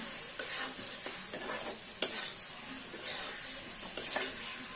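Potatoes stir-fried in a pan with crushed kasuri methi: a soft sizzle runs underneath while a utensil scrapes and stirs in repeated strokes, with one sharper knock partway through.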